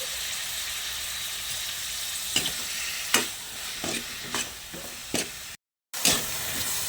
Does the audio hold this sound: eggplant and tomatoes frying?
yes